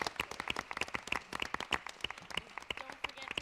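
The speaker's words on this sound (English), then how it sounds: "Let's give them one more big round of applause." Scattered applause at a board of education meeting: a small group's individual hand claps stand out sharply and fairly faintly, uneven in rhythm, over a few seconds with faint background murmur.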